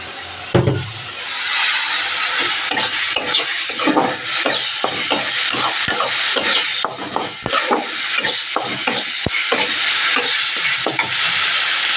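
Fritters of chopped greens bound with rice flour sizzle loudly in a pan, with repeated scraping strokes of a spatula over constant hissing fry.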